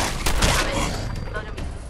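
Fallout 4 shotgun blasts against a pack of legendary rats: a couple of loud, close booming shots in quick succession over a second or two, with a voice talking over them.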